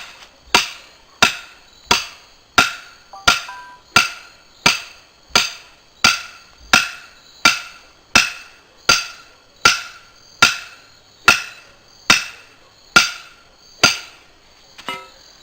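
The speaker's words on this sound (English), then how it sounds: "I think I'm going to get a bigger hammer." Sharp hammer blows strike a log one after another, about sixteen evenly spaced loud cracks in a steady rhythm, each ringing briefly with no talk between them.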